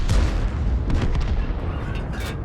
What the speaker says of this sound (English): I managed to get another shot into him